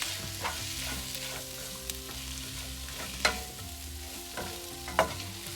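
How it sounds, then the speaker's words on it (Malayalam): Chopped small tomatoes sauté with ground spices in a pan for a Kottayam-style Kerala shrimp roast: a steady close sizzle with a few sharp spoon scrapes and taps as the mixture is stirred. "പൊടികൾ ചേർത്തതിന് ശേഷം 3-4 മിനിറ്റ് നന്നായിട്ട് വഴറ്റി ഇനി അതിലേക്ക് ചേർക്കുന്നത് 2 ചെറിയ ടൊമാറ്റോ ചെറുതായിട്ട് അരിഞ്ഞെടുത്തതാണ്"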